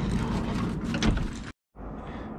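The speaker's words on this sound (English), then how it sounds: "So it's got a sliding side door like most of the other vans do." Sliding side door of a 2013 Volkswagen Crafter camper van at a ski resort, a sustained loud rumbling slide lasting about a second and a half, a brief pause, then another rolling movement of the door, close by with no talking.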